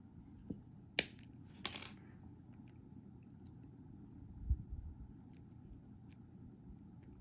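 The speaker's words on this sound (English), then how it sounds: "I want to separate these 3 wires. And I'm going to trim them short." Cutters snip jewelry wire short on a woven single bead pendant, giving two or three sharp, close clicks early on, followed by quiet handling noise.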